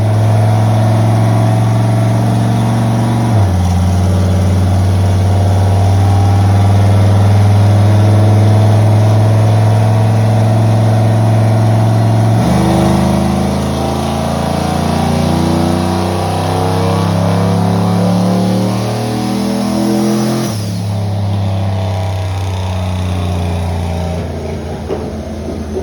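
A turbocharged car engine running 10 pounds on the wastegate dome makes a series of sustained revving pulls, loud and close, its pitch climbing through each pull before dropping back between them.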